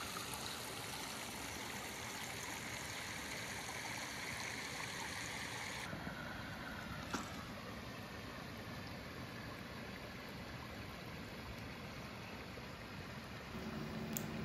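A section of the Ban river flows steadily in a continuous, even rush of running water, quiet and unbroken throughout with no voices.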